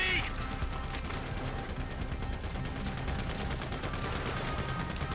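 Gunfire from Grand Theft Auto V, a dense, continuous stream of shots and crashes mixed with game effects, loud and steady throughout, with a voice faintly present underneath.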